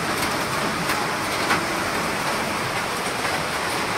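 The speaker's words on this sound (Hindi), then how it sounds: "बहुत सारे ओले और बारिश भी फूल ले, क्या मौसम बना दिया" Hail and rain pour down together during a sudden storm on Holi, making a dense, steady hiss with faint scattered ticks of hailstones throughout. No one speaks.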